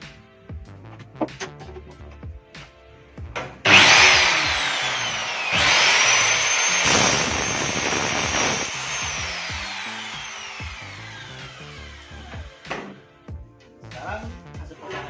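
A power saw cuts an aluminium edging strip at a 45-degree angle, the strip held down by an F-clamp. A loud rising whine runs for several seconds and then fades, with clicks and handling noises before and after.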